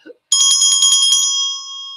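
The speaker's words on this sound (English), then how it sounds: "You can just grab a silver bell ornament or a bell collection." A silver bell ornament from a bell collection rings with a quick burst of shaken strikes, then a clear sustained metallic tone that slowly fades, close and loud with no talking.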